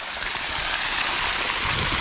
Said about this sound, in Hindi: अब ये देखिए पानी गिर रहा है बड़ा यहाँ